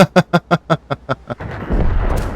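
A tank's heavy cannon fires in an online battle game, a loud boom following a run of about eight rapid evenly spaced thuds that fade, then a rumbling blast tail.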